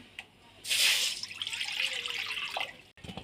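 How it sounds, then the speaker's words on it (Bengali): Water is poured into a hot pan for a winter cauliflower dal, a loud steady rush of liquid that splashes in sharply and trails off after a few seconds. "কড়াটা গরম হয়ে গেছে আর জল দিয়ে দেব"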